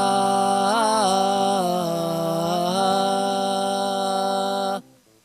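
A long sung tone with an electronic harmony from a VoiceLive 2 set to fixed key and scale, major 1 setting, the pitch bending slightly near the start, then ending suddenly after about five seconds.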